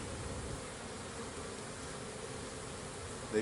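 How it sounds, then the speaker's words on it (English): A dense, steady drone of many honey bees buzzing together in a hive, close and unbroken throughout. "the bees aren't nearly this antsy or noisy"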